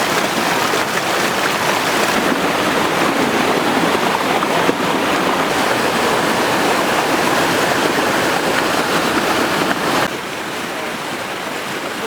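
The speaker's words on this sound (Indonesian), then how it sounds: "Air terjun di Kermal ini ada 3 tingkat." The multi-tiered waterfall at Kermal, Batu Sumbang pours in a constant dense roar of rushing water, close and loud throughout, easing slightly near the end.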